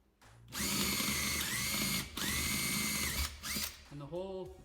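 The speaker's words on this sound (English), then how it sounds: "the small hole you already drilled guides it better" A power drill enlarges the bolt holes in a wheel. It whirs loudly in two long sustained bursts, then makes shorter stop-start spins toward the end.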